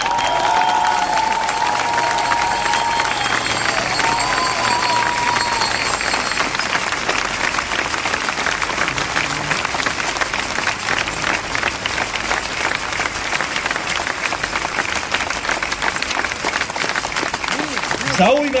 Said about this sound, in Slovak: Poprosím pre nich veľký potlesk do regiónov.